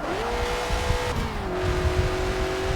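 A Honda race car in a racing video game, its engine holding a sustained, tonal whine that steps down in pitch as it shifts, close and continuous over a low rumble, with no talk.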